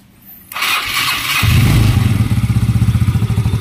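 A Yamaha Mio Sporty scooter, just repaired for an oil leak at the footboard, cranks with a brief whirring starter, then catches and settles into a loud, rapid, even putter close by.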